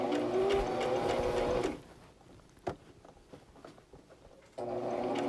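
A sewing machine runs in quick bursts stitching fabric for a scrunchie, a steady mechanical whir that stops for a few quiet seconds with a single clack before starting up again.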